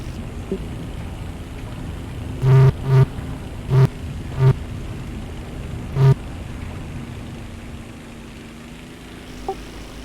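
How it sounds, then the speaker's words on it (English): Five short, harsh electronic buzzes from a tank commander's speaker in the War Thunder tank game, clustered in a quick irregular series over a steady low engine drone, with no talk. "is he just buzzing us with his speaker noise?"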